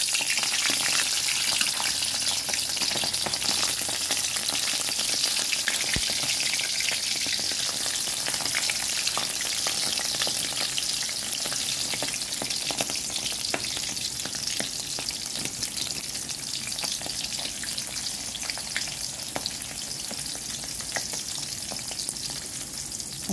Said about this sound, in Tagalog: Piprito tayo ng tinapang salinas.